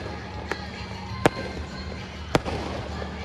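Fireworks and firecrackers crack in three sharp, separate bangs over a steady background din at a nighttime Pakistan Independence Day (14 August) celebration.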